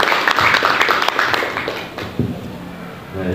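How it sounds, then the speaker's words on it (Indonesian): A seminar audience at a soil improvement and organic fertilizer event applauds a speaker: a dense patter of clapping, loudest at first, then thinning and fading out. "Boleh tepuk tangan yang luar biasa untuk Bapak Ribut."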